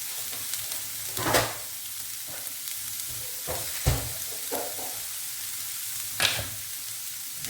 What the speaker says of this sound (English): Fry them off. And they are nice if they've got a little bit of colour to them. So keep stirring